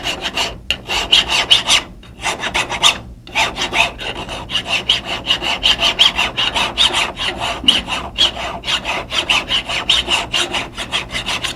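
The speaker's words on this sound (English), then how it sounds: "we'll just get in there with a good fine file and get rid of them" A fine hand file rasps a machined burr off the serrated top of a steel Colt-style pistol slide, a close, steady run of rhythmic back-and-forth strokes with a brief pause near the three-second mark.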